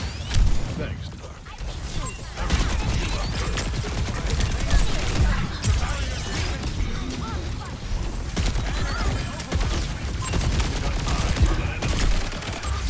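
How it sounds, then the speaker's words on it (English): Missiles fire over and over in a video game, a dense run of explosive bursts and crashes that keeps going throughout, loud and close, with voices talking underneath. "It's going to keep shooting missiles back there, and eventually it's going to kill somebody."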